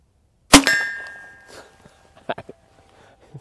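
A CCI standard velocity .22 round fired at a steel target gives one sharp crack and a metallic ring that fades. A few soft scuffs and light clicks follow, with no talk.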